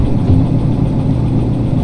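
A train locomotive engine idles in the video game Derail Valley: a loud, close, steady low rumble with a slightly uneven throb, heard alone without talk.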